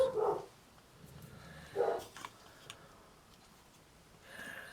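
A dog barks twice, a few seconds apart, each bark short and moderately close against a quiet room with faint background noise.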